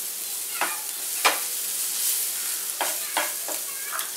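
Green chili, ginger and garlic thecha frying in a spoonful or two of hot oil for kachori stuffing, with a steady soft sizzle and several brief stirring scrapes of a spoon in the pan, close by.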